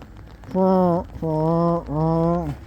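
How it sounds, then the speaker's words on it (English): Frogs and toads calling during heavy rain in the Philippines: three loud, drawn-out, tonal croaks follow one another in steady succession with short gaps between them. "that's a herd of happy frogs and toads with all this rain."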